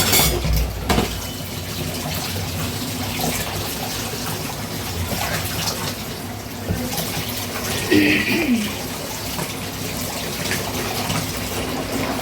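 Water runs steadily from a tap into a clogged sink and pools instead of draining, a continuous close gushing splash with small gurgles.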